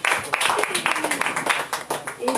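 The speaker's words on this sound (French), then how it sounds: "vous pouvez applaudir" A church congregation applauds during a Sunday worship service, a dense patter of many hands clapping steadily for a couple of seconds, with voices mixed in beneath the clapping.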